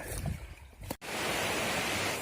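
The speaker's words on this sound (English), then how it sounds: "But I can still hear the river, so everything's okay, right?" A river runs nearby along a hiking trail in a gulch, heard as a steady, loud broadband rush of flowing water that fills the clip after a brief dip, with no talking.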